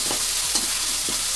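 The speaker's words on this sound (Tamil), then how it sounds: "இது நல்லா வதக்கி விட்டுக்குங்க." Curry leaves and coriander sizzle and crackle steadily in hot oil as they are sautéed and stirred, a dense close frying hiss with a few soft stirring scrapes, no voices.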